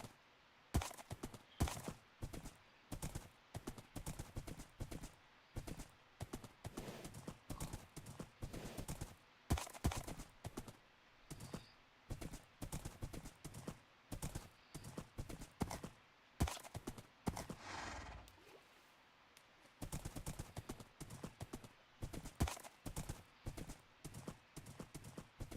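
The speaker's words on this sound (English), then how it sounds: "There's my horse." Horse hooves clip-clop in a video game, a steady, fast rhythm of close, loud hoof strikes that carries on almost without a break and slows briefly near the end, with no talking.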